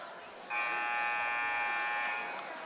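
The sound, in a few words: basketball game buzzer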